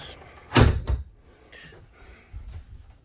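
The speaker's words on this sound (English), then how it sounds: "It also has this door that closes" A bathroom door in a 2021 Tiffin Wayfarer 25LW RV closes with a loud close knock and a second bump right after, followed by softer handling rattles.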